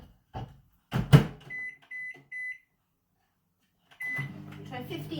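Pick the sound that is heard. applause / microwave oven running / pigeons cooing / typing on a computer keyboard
microwave oven running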